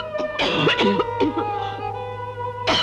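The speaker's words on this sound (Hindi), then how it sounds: "इतनी बुरी तरह क्यों खांस रही हो?" A woman coughing badly in a 1981 Hindi film scene, a run of harsh, rough coughs and throat rasps, close and loud over a steady background hum.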